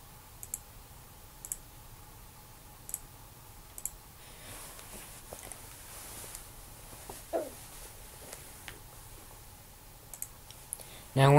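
Mouse clicks during a WinRAR software install on a Windows PC: sparse, sharp single clicks spaced a second or more apart over a quiet room hum, with a louder clatter at the very end.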